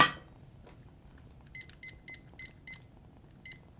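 Electronic kitchen timer beeping while miso soup simmers in a home kitchen, giving six short, evenly spaced high-pitched beeps over a quiet room background after a brief click.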